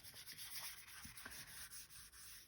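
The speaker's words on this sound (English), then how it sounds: "Don't use your good brushes for this, because you will be doing a lot of scrubbing, and just go over your envelope" Paintbrush scrubbing paint loosely over a paper envelope, a faint dry rubbing and swishing in short irregular strokes with no talking.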